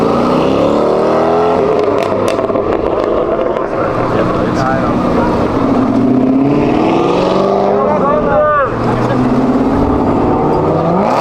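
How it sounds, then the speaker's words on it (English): A Cadillac Escalade-V revs hard and roars past at a supercar gathering at sunset, loud and close, its note swelling and sweeping by amid wind buffeting and excited voices. "Yo, rip it! That's the Escalade V."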